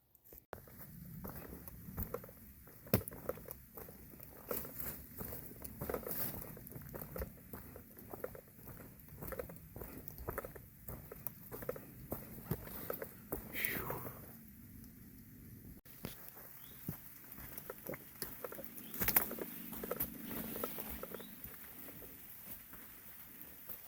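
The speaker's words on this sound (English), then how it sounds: "It's raining." Soft, steady patter of rain on Dragon Tooth Ridge along the Appalachian Trail, quiet and continuous with scattered small ticks and taps, no talking.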